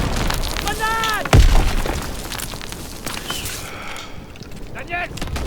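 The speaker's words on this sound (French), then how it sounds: "Grenade." A grenade explodes in a video game firefight as a short, deep boom partway through, under people talking over game noise.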